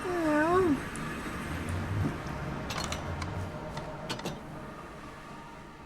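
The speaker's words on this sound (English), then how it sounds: "Cute cat sounds." A Minecraft cat meows with a few rising and falling harmonic calls near the start, fairly clear over a steady game background with faint clicks later.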